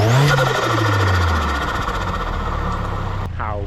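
A Vauxhall Astra H VXR engine runs with its air filter box disconnected, a loud close throaty drone that revs briefly at the start, settles to a steady rumble, then cuts off near the end.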